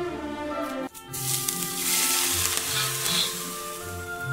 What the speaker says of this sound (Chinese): 都准备好以后，我们再烧点油炝一下。